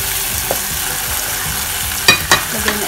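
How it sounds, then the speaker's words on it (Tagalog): Chicken breast sautés in a hot pan with a continuous close sizzle, and a few sharp clanks of a utensil stirring against the pan near the end. "Igisa na natin ang ito, chicken breast. Hayaan lang natin magluto ng konti."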